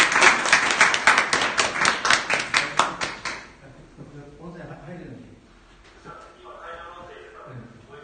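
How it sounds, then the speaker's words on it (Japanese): Audience in a meeting venue at a Hokkaido children's dental health members' training session claps for about three seconds, a fast, fairly loud rhythmic burst of hands that stops abruptly, followed by faint room noise and quiet talk. "もう一度拍手をお願いします。"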